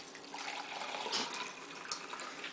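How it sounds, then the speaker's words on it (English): Ice water poured slowly into a Polish sausage meat mix, a faint, soft trickle and splash running steadily for a couple of seconds, with no talk. "So we'll add the water slowly."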